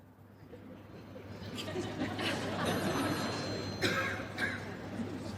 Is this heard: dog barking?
no